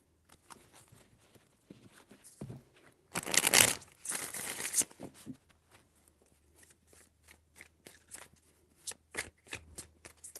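A deck of tarot cards is shuffled in a short, dense burst of riffling, then quieter taps and handling sounds follow with occasional soft clicks.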